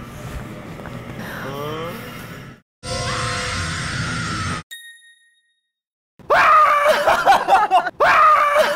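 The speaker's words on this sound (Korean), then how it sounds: "소리 지르는 거요" A loud, sustained scream bursts out twice near the end, following earlier shrill vocal noises and a harsh static-like stretch, then silence.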